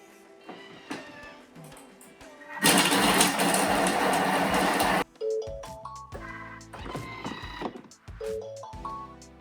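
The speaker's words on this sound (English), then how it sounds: "pop it into the mixing bowl, and then we want to blitz this up, speed 5 for 5 seconds" A Thermomix food processor blitzes a halved onion at speed 5 in a dense, loud whirring burst lasting a couple of seconds, framed by quieter clattering before and after.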